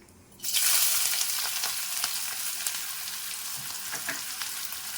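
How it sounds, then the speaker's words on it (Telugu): Onions hit hot oil in a pan for a chicken curd curry and burst into a loud, steady sizzle that starts abruptly and holds as a dense, close frying hiss. "ఇప్పుడు ఆనియన్స్ వేసేద్దామండి"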